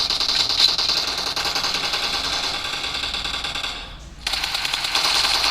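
Rapid automatic gunfire rattles continuously in a mobile shooter game played on an Infinix Note 8 phone, dense and loud with a brief dip near the end before resuming.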